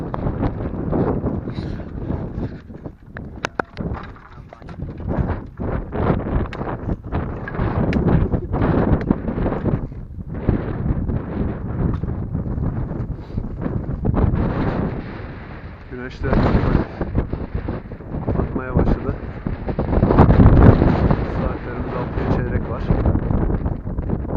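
Heavy wind buffeting the microphone on a cold climb up Barla Mountain, deep rumbling gusts throughout, with a voice speaking underneath the roar.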